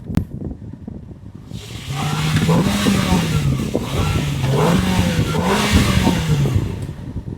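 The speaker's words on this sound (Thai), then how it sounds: "มาฟังเสียงเครื่องยนต์กันครับ" A used Toyota Yaris engine revs up several times in rising and falling swells, close by, with no talking.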